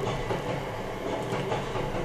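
A train rolling past, a loud, continuous rumble with rhythmic rail clatter that holds steady from start to finish with no voices.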